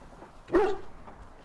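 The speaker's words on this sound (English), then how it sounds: "Now it's barking." A single short dog bark in the video game Dragon Age: Origins, fairly faint and slightly distant, over quiet background noise.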